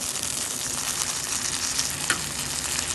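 Onions, peppers and scallions fry in a hot pan for birria tacos, a steady close crackling sizzle with a brief sharper pop near the end.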